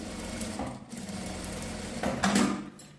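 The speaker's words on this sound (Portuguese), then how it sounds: "Passar a costura aqui." A sewing machine fitted with a zipper foot stitches a seam, producing a steady, fast mechanical whir that runs continuously and swells slightly near the end, close and fairly quiet.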